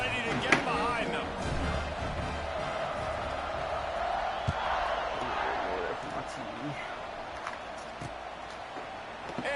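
A football video game crowd (Notre Dame vs TCU) rumbles steadily in a stadium before kickoff, a broad roar with scattered cheers and thumps, while a commentator talks over it.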